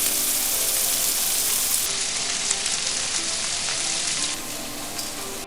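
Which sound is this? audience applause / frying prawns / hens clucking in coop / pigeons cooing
frying prawns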